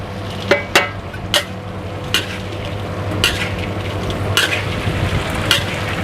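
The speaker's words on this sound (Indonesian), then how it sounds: "Nah, kita aduk sebentar ya, biar ke infuse." Tempeh frying with spices in a hot pan sizzles steadily while a utensil stirs and scrapes it, sending out a series of sharp, irregular clacks against the pan, loud and close.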